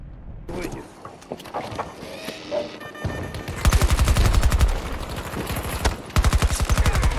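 PBX-45 fire in Battlefield 2042 during a conquest match: scattered shots and game noise at first, then long rapid automatic bursts, loud and close, broken by a short pause, while a player speaks between them.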